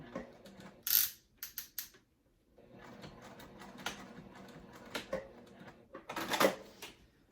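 A sewing machine stitches a name onto a zip crossbody bag, giving a close, rapid mechanical clatter that comes in short bursts and then a longer steady run.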